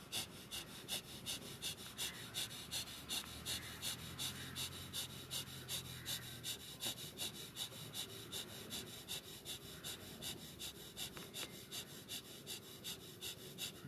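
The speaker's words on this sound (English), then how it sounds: "Now coming to Bhastrika Pranayam." Bhastrika pranayama yoga breathing, a steady train of rapid forceful breaths, each puff evenly spaced and fairly quiet, continuing alone without talk.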